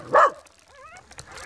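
Stray puppies in a snowy box during a minus 33 degree northeastern China winter let out one loud close bark followed by a thin whimpering yip and faint small sounds.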